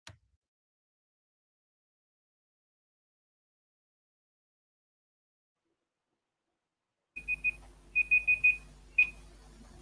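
A presentation timer alarm goes off after a long silence, sounding several sharp electronic beeps in quick bursts, fairly faint and close.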